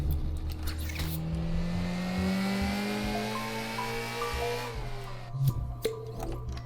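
A virtual car in the PS4 game Dreams drives with a steady engine hum that rises in pitch as it accelerates, then drops and shifts near the end, with a few short thuds and squeals; no talking.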